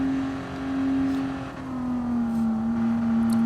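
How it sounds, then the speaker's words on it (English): A GTR safety car engine in an online racing game holds a steady, droning hum at near-constant pitch, dipping and rising slightly, loud and continuous with no talking. "Now the beautiful Peter Mac GTR safety car driven by AGT's #1 safety car driver"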